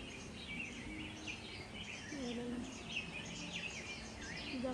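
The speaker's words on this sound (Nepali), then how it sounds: "चराहरू कराएको साउन्ड लगाएको, यो चाहिँ म्युजिक बजाएको क्या।" Recorded birdsong plays from speakers in a bonsai garden park in Sejong, Korea, a steady layer of chirps and whistling calls with a faint low hum beneath, moderately quiet and continuous.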